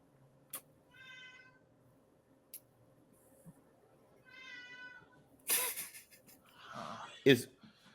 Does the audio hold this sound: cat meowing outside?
yes